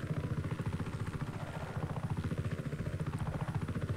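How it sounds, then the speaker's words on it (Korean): Helicopter in the video game Just Cause 3 flying steadily close by, its fast rotor chop pulsing evenly under a droning engine with rising and falling whine, loud throughout. "그리고 헬기 바람 이거"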